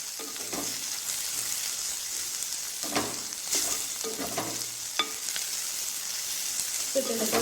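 Ginger, garlic and coriander sautéing in a pan for a sardine curry, a steady frying sizzle broken by several louder stirring scrapes, no talk.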